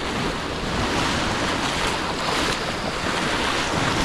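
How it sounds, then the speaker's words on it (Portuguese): Ocean swell at high tide surges at the Gruta do Amor grotto in Arraial do Cabo, a loud, unbroken roar of surf mixed with heavy wind buffeting the microphone. "em dias de mar com ondulação e com a maré cheia"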